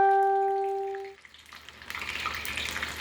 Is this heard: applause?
no